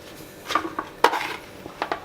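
Chlorate-based rocket candy mixture being stirred and worked, giving a few sharp clinks and scrapes of a utensil on a hard container, close and brief, spaced irregularly over a couple of seconds.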